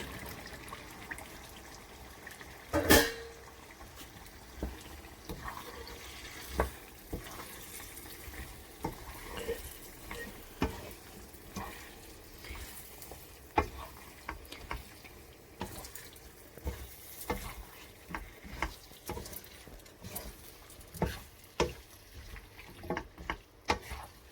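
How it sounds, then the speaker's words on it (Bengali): Chillies frying with spice paste for a homemade hot chilli pickle, a steady wet sizzle running throughout with frequent sharp spatters and scraping stirs, close and fairly loud, no talking. "মশলা যখন কষবে মরিচটার সাথে"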